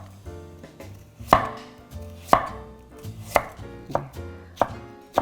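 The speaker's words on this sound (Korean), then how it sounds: "4, 5cm 길이로 이렇게 무채를 써시면 돼요" A knife chops radish into thin julienne strips on a board, with crisp, evenly spaced thuds landing about once a second. The chopping is close and clear, with no talk.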